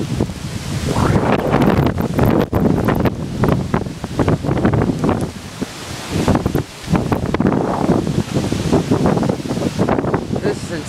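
Hurricane Sandy roars through Bayonne, New Jersey, with strong, steady wind buffeting the microphone and surging floodwater rushing and churning close by, loud and continuous throughout.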